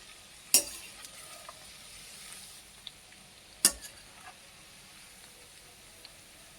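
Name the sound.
rice flour murukulu frying in hot peanut oil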